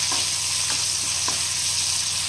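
Curry leaves cook in a pan with a constant dense sizzle from start to end, and a few faint utensil taps come through it.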